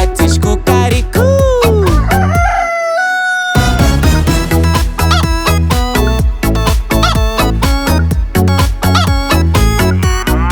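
Hens cluck and a rooster crows inside a lively children's song about farm animals, the animal calls rising and gliding over a steady, loud, beat-driven musical backing.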